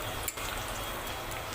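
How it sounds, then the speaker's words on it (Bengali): Onion frying in oil in a wok gives a soft, steady sizzle at low level, with one brief knock near the start. There is no talk. "এখন আমি চুলায় কড়াইতে পেঁয়াজটা তেলে ভেজে নিচ্ছি ভালো করে।"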